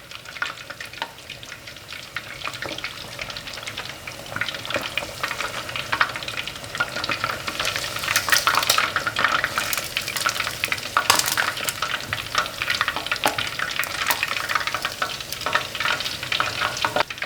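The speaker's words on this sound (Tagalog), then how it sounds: "So yung next batch naman yung ating ipiprito." Chicken pieces frying in hot oil for Filipino fried chicken, a loud, dense, continuous sizzle with crackling pops throughout and no talking.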